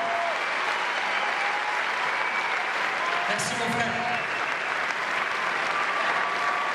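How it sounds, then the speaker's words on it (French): Sustained audience applause fills a hall, dense and steady throughout, with someone speaking briefly over the clapping. "faites-leur un tonnerre d'applaudissements encore"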